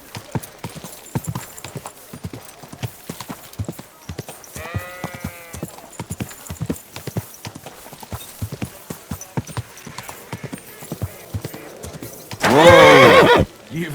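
A horse in the video game Kingdom Come Deliverance 2 clip-clops in a steady, continuous rhythm of hoofbeats, neighing once midway and then letting out a loud, close whinny near the end.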